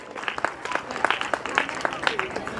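Audience applause at a school award presentation, a dense patter of many hands clapping at moderate volume, with voices and chatter mixed in underneath.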